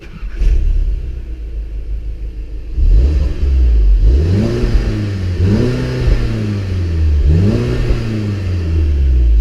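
A 2016 Volkswagen Golf GTI is started with a push button after a quiet moment. The engine catches with a rumble and then revs up and drops back three times in a clear, regular rhythm.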